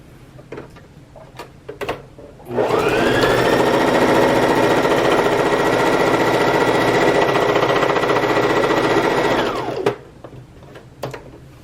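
A sewing machine stitches forward and back on a sewing project, running in one loud, steady, close whir for about seven seconds, with handling clicks and light rustles before and after.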